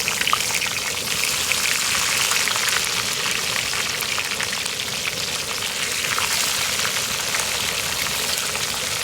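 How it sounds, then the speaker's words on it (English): A batch of French fries deep-fries in grease on a Southwest Disk outdoor cooker, giving a continuous, even bubbling sizzle with a dense crackle close by. "Let's slide these fries in"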